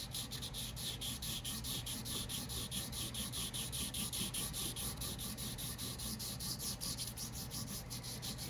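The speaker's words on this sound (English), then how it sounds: "a little bit of sanding like this will do the trick." Steady, continuous rasping of sandpaper rubbed back and forth along a thin wooden arrow shaft, close up, with no voices.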